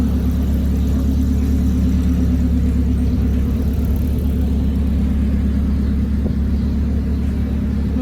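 A cement mixer truck's engine rumbles close by in a steady, loud, low drone, holding an even idle with no noticeable revving.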